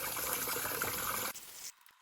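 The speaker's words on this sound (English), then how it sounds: "Wash and drain the rice a few times to remove excess starch." Water rushes steadily over glutinous rice as it is rinsed to remove starch, a close, continuous splashing that breaks off, briefly resumes, then stops.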